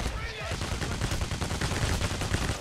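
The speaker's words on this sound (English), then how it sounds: "These people would stop running into gunfire." Rapid, dense bursts of gunfire crack continuously through the PAYDAY The Heist game mix, loud and close, with a voice briefly audible at the start.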